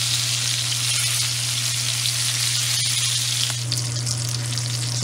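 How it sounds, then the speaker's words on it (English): The fat cap of a sous vide prime rib sears in a hot pan, giving a dense, constant, loud sizzle with a steady low hum underneath and no voices. "we're just gonna sear the fat a little more and then take it out"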